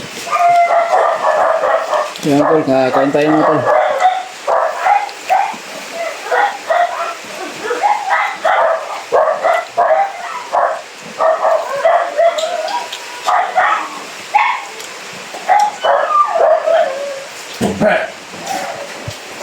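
A dog barks and yips in short bursts close by while someone talks over it, with whimpering yelps scattered between.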